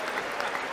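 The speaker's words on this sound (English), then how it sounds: "you can tell it's a good State of the Union because of how much clapping there's been" Applause in the chamber at a State of the Union address, a brief dense wash of many hands clapping at steady volume.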